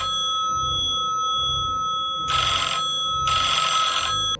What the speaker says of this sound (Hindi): तभी शॉप का फोन बजा।